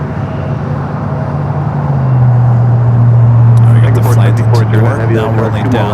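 An American Airlines Airbus A321neo rolls along the runway at LAX with a loud, steady jet engine drone whose low hum shifts in pitch as it picks up speed, and a voice speaks over the engines.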